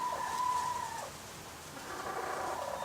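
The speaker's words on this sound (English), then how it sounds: "My chickens are making weird noises." Backyard chickens let out odd, drawn-out calls, one rising and falling cry followed by softer warbling sounds, faint and somewhat distant over low background noise.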